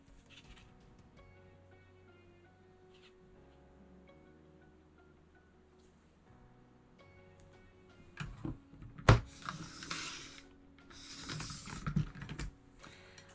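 A paper trimmer slicing paper for a spring-themed craft project: a short, dry scraping cut in the second half, louder bursts following a quiet stretch of faint tapping and handling noise.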